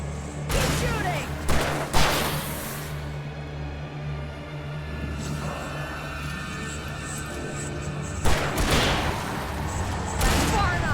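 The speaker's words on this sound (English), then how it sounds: "Keep shooting!" Gunfire in the Alan Wake Remastered video game, with several sharp bursts of shots and booms separated by a rumbling background and game voices calling out.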